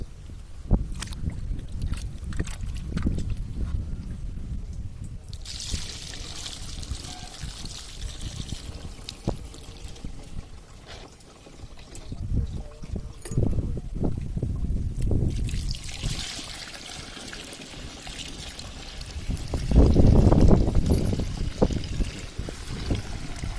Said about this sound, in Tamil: இப்போ தண்ணி ஊற்றும்